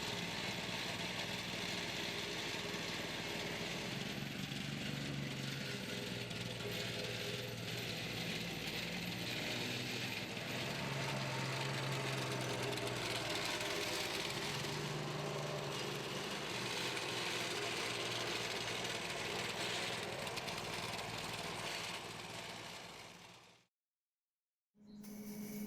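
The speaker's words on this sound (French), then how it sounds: "Nous allons maintenant la tasser, c'est-à-dire la damer avec une plaque vibrante." A vibrating plate compactor tamps the base layer for a DIY terrace, running as a steady, loud mechanical rattle that continues without a break for about 24 seconds, then cuts to silence briefly before resuming.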